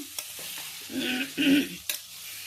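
Jackfruit pieces sizzling in hot oil while being stirred in a pan, with several scraping strokes and clicks of the spatula across a couple of seconds, close and moderately loud.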